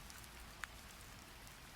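Soft, steady rain falls as a faint, even hiss, with one brief louder drip, and no voices heard.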